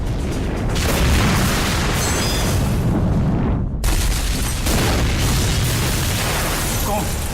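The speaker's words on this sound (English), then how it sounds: "Burning aviation fuel rains down onto dozens of apartments." Plane crash into apartment blocks with an explosion and burning aviation fuel, heard as a loud sustained roaring rumble with booming bursts, a brief dropout near the middle, then continuing dense fiery noise.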